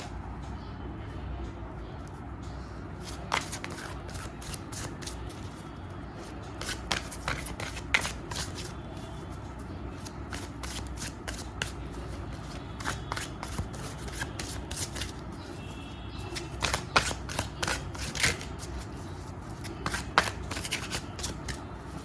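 Tarot cards are shuffled over and over at close range, making quick riffling and slapping bursts in an irregular rhythm above a low background rumble.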